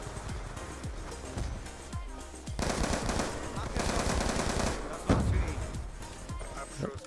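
Automatic gunfire from a magazine being sprayed in Call of Duty: Black Ops 2, with a loud sustained burst in the middle and scattered single shots before and after, under occasional talk.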